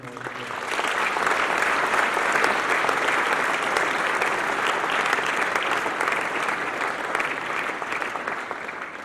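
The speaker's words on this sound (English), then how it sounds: "Please give them a huge round of applause." An audience at a school speech day claps for the swimming team, a loud sustained round of applause that fills the hall and holds steady, fading slightly toward the end.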